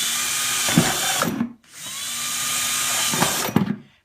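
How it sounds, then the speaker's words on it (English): Power drill boring holes into the bottom of a pumpkin, two loud whining bursts separated by a brief pause, each ending as the motor spins down. "now we're going to drill 3 holes into the bottom of the pumpkin"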